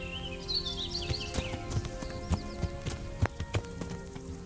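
Horse hooves clip-clopping in the medieval video game Kingdom Come: Deliverance, a series of irregular hoof knocks at a walking pace against a faint background of birdsong.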